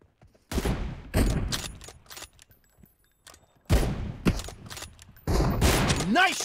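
Gunfire in PUBG Mobile, likely an M24 rifle: several loud, sharp shots and clattering bursts in uneven clusters with brief gaps, close and prominent.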